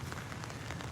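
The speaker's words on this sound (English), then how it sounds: "seems like the rain's backing off a little" Steady rain falls in a garden, a dense close patter of drops on leaves and surfaces with a low background rumble and no talking.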